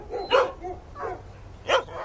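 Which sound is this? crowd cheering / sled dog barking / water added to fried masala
sled dog barking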